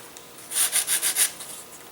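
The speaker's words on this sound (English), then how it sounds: "So we're going to bevel these wings very, very slightly" Sanding a very slight bevel onto the wings of a Science Olympiad elastic-launched glider: five quick, even rubbing strokes in a row, close and fairly loud, with no talking.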